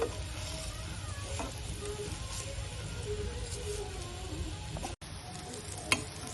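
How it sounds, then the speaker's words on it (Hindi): Malai kofta balls fry gently in oil on a moderate flame, a soft continuous sizzle with faint stirring, close and quiet, one sharp click near the end. "ये हमारे कोफ्ते बहुत ही स्लाइटली फ्राई हो गए हैं।"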